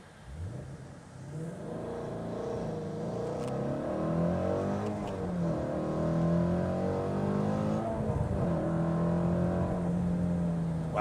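A 2020 Ford Mustang GT350 V8 accelerates hard in sport mode, engine note climbing through rising revs and gear changes, loud and steady from inside the car with no talk.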